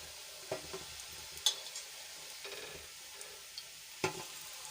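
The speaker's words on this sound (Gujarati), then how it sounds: "એ જ રીતે આપણે બધી ચાપડી બાટી તળી લેશું" Soft, continuous bubbling sizzle of chapdi bati dough balls deep frying in oil, with a few light clinks and taps of a utensil against the pan.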